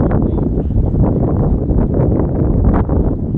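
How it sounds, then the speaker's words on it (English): Strong wind buffets the microphone outdoors, a loud, continuous low roar with gusty swells throughout. "I'm trying to wait for the wind to go by"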